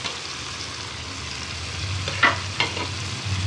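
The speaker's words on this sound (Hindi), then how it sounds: "अब हम इसमें डाल देंगे टमाटर का पेस्ट।" Tomato paste and spices going into a frying white chickpea curry, a steady sizzle with a couple of sharp stirring scrapes near the end, no talking.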